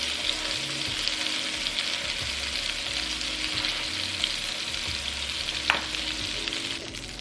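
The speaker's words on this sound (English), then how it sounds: "we're gonna sear these for 3 to 4 minutes" Pork chops sear in a hot pan with a steady, close crackling sizzle for the whole stretch, plus a faint brief clink of a utensil near the end.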